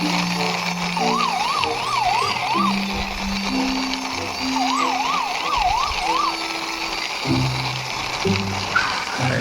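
A toy police car gives off a wavering electronic siren in two bursts, rising and falling rapidly over a busy background of music-like tones and clatter, moderately loud and close.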